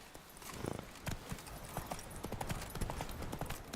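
Horse Roach in The Witcher 3 trots with quick, close clip-clopping hooves and a brief whinny, fairly quiet and alone without talk.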